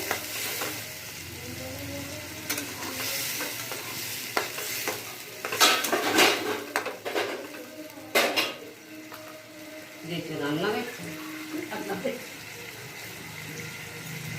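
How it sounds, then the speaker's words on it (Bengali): Ginger-cumin paste, tomato, turmeric, salt and chilli being sautéed in a pan alongside potatoes, with soft sizzling under repeated spoon scrapes and clinks against the metal, quiet voices occasionally in the background. "আদা জিরে বাটা, টমেটো, হলুদ, নুন, লঙ্কা সব দিয়ে দিয়েছি। একটু কষিয়ে নেবো।"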